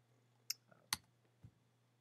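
Sparse, quiet clicks of keys on a computer keyboard, a few isolated taps over a low steady hum, with no talking.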